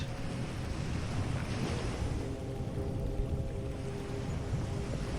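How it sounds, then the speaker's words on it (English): Ocean waves wash steadily below in a constant, even roar of surf, broad and unbroken throughout with a soft windy hiss and no voices. "The waves continue below, steady and constant."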